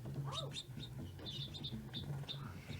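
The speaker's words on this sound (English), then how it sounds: "So again, our two little trained sparrows." Two trained sparrows chirp in the 1981 film Roar, giving several short high tweets scattered over a few seconds, fairly faint over a low background hum and film soundtrack.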